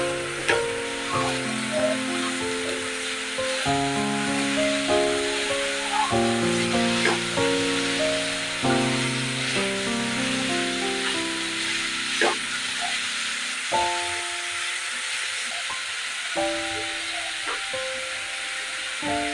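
Potatoes coated in turmeric powder stirred and frying in a pan, a steady close sizzle with scraping stirs, under continuous background music, with no talk.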